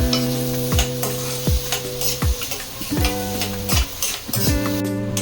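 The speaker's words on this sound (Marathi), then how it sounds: "आता आपण कांदा थोडासा फ्राय करून घेऊया" Onion with green chilli fries in oil for egg fried rice, a continuous sizzle punctuated by repeated metallic clinks and scrapes of a spatula against the pan, which leave ringing tones, loud and close with no voices.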